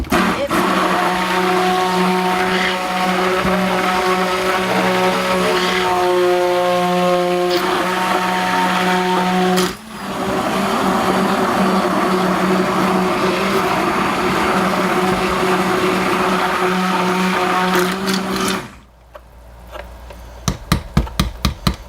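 Mini mixer whirring steadily as it blends titanium dioxide into olive oil for pink sugar goat's milk soap, a loud continuous motor drone that shifts pitch midway, then cuts off, followed by a few faint clicks.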